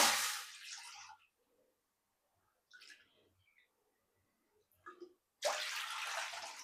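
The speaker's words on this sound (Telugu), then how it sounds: "అదే కప్పుతో టూ కప్స్ వాటర్ యాడ్ చేసుకుందాం" Two cups of water are poured into a pot in two short splashing bursts, separated by a quiet stretch with faint clinks.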